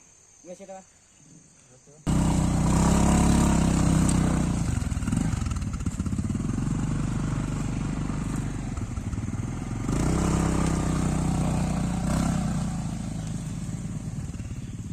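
A motorcycle fitted with chains rides a very slippery, long road, its engine snarling loud and close with uneven revving after a quiet start, while someone speaks over it.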